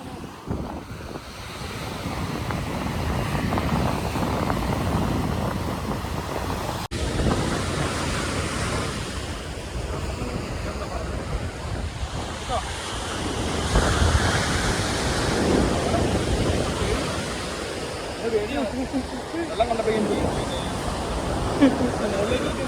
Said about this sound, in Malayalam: തിരയുണ്ടല്ലേ